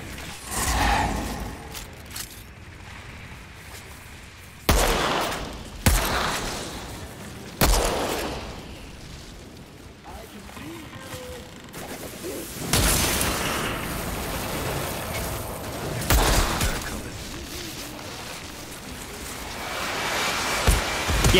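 Enemy spotter snipers fire in the Outriders shooter game, with several sharp, loud cracking shots spaced irregularly across the stretch over a steady rumbling background.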